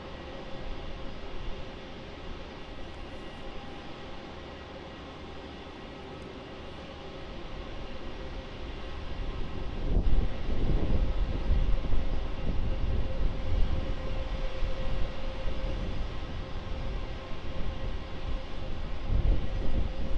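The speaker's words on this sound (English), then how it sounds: "the Singapore Airlines 777-300ER, arriving in from Singapore" A Singapore Airlines Boeing 777-300ER arrives at Melbourne Airport with a distant jet roar. The roar holds steady, then swells louder about halfway through and stays heavy to the end.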